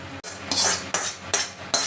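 Fried whole spices go into a pot of cooked pulao, heard as four sharp metallic clanks of a utensil against the pot at a steady rhythm, close and loud, with no talk.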